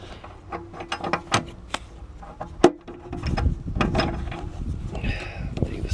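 Socket ratchet loosening a front oxygen sensor on a VW 2.5L engine, with scattered clicks and clanks of the tool up close, then rustling and scraping as the socket comes off.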